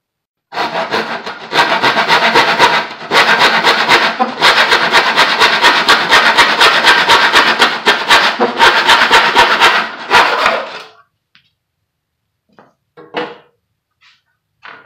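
A hand saw cuts through wood in a Stanley miter box with steady, loud, close back-and-forth rasping strokes for about ten seconds, then a few light knocks after the sawing stops.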